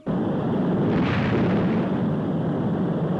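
Rocket first-stage separation effect from the Fireball XL5 puppet series: a steady, loud roaring blast with a brief surge in the middle, continuing unbroken for about three seconds with no voices.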